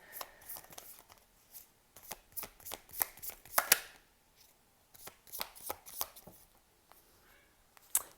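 Tarot and oracle cards being shuffled and pulled, a series of crisp riffling and snapping bursts with short pauses between them, close and fairly quiet, no talking.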